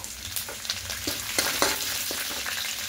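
Chopped ginger, garlic and green chili frying in hot oil for chili soybean, a steady close sizzle broken by a few sharp spatula scrapes and crackles, with no voices.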